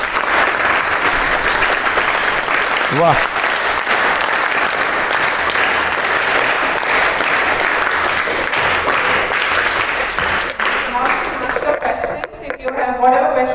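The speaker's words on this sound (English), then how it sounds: "So everyone clap for them once again." Students in a classroom at Chanakya International School give a loud, sustained round of applause. A voice briefly exclaims partway through, and the clapping thins into scattered claps at the end.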